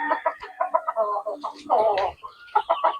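Backyard fighting roosters and chickens at a breeder's yard cluck and call in quick, loud bursts nearby, with one drawn-out crow-like cry in the middle.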